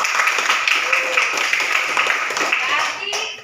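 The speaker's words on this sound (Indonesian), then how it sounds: "Tepuk tangan dulu buat Simran." A classroom of students clapping for a classmate during a teaching session, a quick burst of many hands clapping together, fairly close and loud, fading slightly toward the end.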